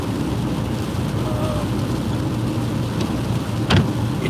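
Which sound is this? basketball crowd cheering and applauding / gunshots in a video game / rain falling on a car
rain falling on a car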